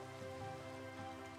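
Rain falling in the Minecraft video game, a steady soft patter of drops that holds evenly throughout with no voices.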